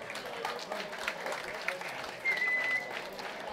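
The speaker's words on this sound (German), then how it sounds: "Noch einmal Applaus für den Sieger, meine Damen und Herren, Max Exner." A crowd applauds the winner Max Exner after a VBC 9 fight, fairly faint, steady clapping with a brief tone and some voices underneath.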